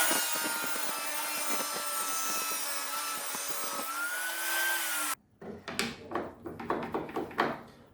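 Table saw cutting small plywood pieces: a steady, loud whining blade with a shifting pitch as it cuts, then a sudden stop followed by a series of knocks and rubbing handling noises at close range.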